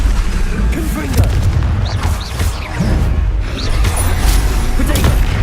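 Spell blasts and booming impacts in the Hogwarts Legacy video game, loud repeated bursts over a dense game soundscape with bits of voice.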